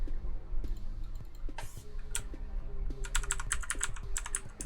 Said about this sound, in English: Mechanical keyboard sounds are really nice.